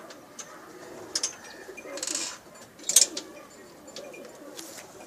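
Pakistani pigeons at a breeder's loft give soft, low cooing calls over a quiet background, with a few brief clicks and rustles.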